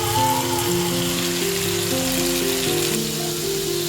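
Chili powder, turmeric, ginger-garlic paste and coriander paste fry in a pan for a rui fish curry, giving a steady, loud, dense sizzle that runs throughout, with faint tonal music underneath.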